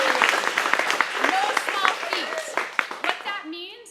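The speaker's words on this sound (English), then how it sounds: "we need to give Sapna and Shane and a couple others a huge round of applause" A group of office staff gives a round of applause for colleagues: lively scattered hand clapping mixed with voices and cheerful chatter, fairly close.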